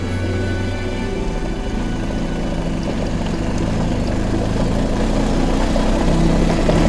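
A motorcycle engine on a tour through the Icelandic highlands, a loud, steady, low drone running continuously without a break.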